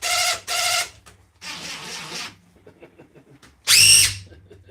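A power drill drives screws in short bursts: two quick whirring runs, a longer buzzing drive, then a final high-pitched whining spin, with quiet clicks between.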